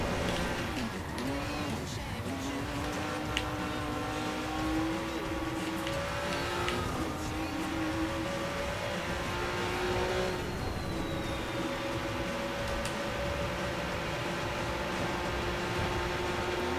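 Engine of a Lamborghini-style car in Watch Dogs droning and revving steadily with rising and falling pitch, loud and continuous, with occasional collision noises and faint voice underneath.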